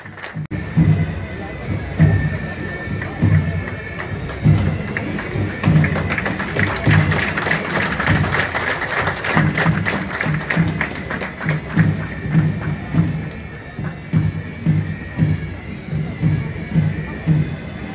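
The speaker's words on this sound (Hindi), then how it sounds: "स्वागत करें जोरदार तालियां" A crowd claps for the chief guest at a Jharkhand police state-level sports meet, an outdoor roll of applause with rhythmic thumping beats, mixed with a loudspeaker voice and crowd babble.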